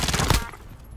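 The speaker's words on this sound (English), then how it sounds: "I am under fire." Rapid automatic gunfire from Call of Duty Warzone, a dense burst of close, loud shots lasting under half a second before cutting off into quieter game ambience.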